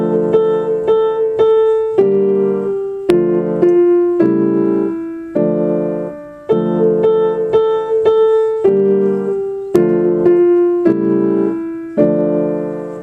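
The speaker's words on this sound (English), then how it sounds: "play the melody in the right hand while you play the chords in the left hand" A piano plays a steady melody over sustained lower chords, each note struck clearly and ringing, moderately loud with no voices.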